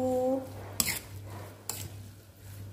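A spoon stirs a seasoning mixture of oyster sauce and sugar in a bowl, making two sharp clinks against the dish over a quiet background with a steady low hum.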